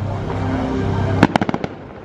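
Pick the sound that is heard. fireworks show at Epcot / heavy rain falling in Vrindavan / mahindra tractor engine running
fireworks show at Epcot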